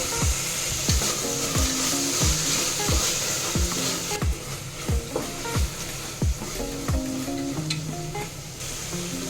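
Chopped tomatoes and salt sizzle in a pan as a spoon stirs them, a steady frying hiss cut by regular knocks and scrapes of the utensil, with no voices.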